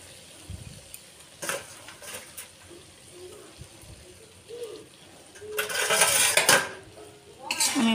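A fish curry of small fish with scattered coriander leaves being stirred in a pan, with soft scrapes and several sharp metallic clatters of utensil on pan, and a louder scraping burst near the end.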